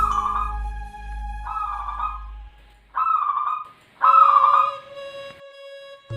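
A perkutut (zebra dove) coos at midday in four separate trilled, whistly phrases with short pauses between them. The calls are clear and close, with a low rumble under the first part.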